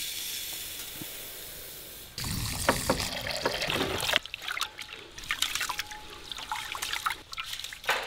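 Jeera samba rice being rinsed in water for Thalassery biryani, with splashing, trickling and sloshing that starts after a quiet moment and continues close and steady to the end.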